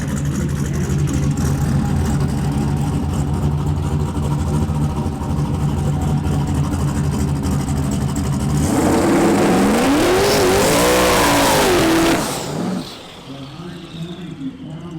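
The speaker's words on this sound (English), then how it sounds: "We're gonna redo that burnout" A drag race car at Midwest Drag Week does a burnout. A loud, sustained engine roar and tire noise fill the clip, then the engine revs sharply up and down several times before the sound drops off near the end.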